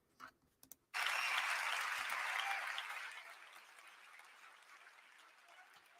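An audience breaks into sudden clapping after a few faint clicks, a dense burst of applause that holds strong and then gradually thins and fades.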